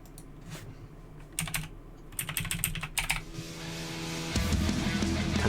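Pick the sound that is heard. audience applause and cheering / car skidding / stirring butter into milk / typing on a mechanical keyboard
typing on a mechanical keyboard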